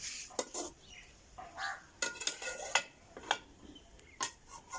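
A spoon clinks and scrapes against a pot while stirring potato cabbage curry, sharp metallic taps and soft scraping in an irregular rhythm, close and fairly quiet.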